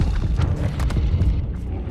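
Fire spell blasts from the Hogwarts Legacy video game land as a string of deep booming thumps and crackling bursts, loud and close, with no talking over them.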